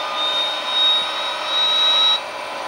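Right engine running in a professional flight simulator, a steady mid-level whine with a thin high tone, swelling slightly twice before easing off, no talk.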